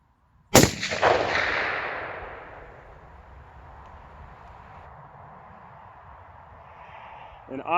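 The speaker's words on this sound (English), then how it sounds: "I'm going to take 1 shot." A single rifle shot fired while sighting in a scope at 50 yards: one loud, sharp report, then a rolling decay that fades over a couple of seconds into quiet outdoor background, with a brief noise near the end.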